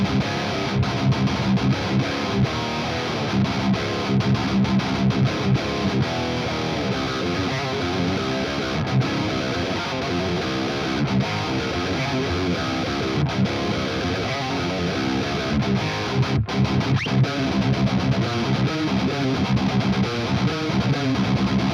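Heavily distorted electric guitar through a Dual Rectifier amp model in the TH3 amp simulator, playing continuous dense riffs with a thick saturated tone and short choppy breaks, steady and loud throughout.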